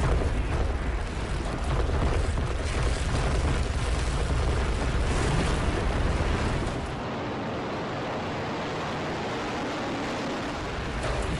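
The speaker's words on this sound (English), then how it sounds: "A huge explosion now raining debris on all of us." A loud, sustained roar of a massive explosion at the September 11 World Trade Center attack, with rumbling debris crashing down, dense and overwhelming, easing slightly toward the end.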